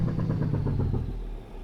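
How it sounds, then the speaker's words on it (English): Low engine growl from a truck being driven, a rumbling mid-low drone with a rapid pulsing throb that fades slightly toward the end, heard alone without talk. "You hear that low growl engine? Sounds amazing."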